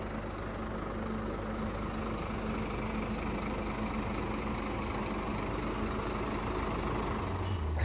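A Scania bus engine drones steadily at a rest stop, a low continuous rumble with a constant even texture and no talk throughout.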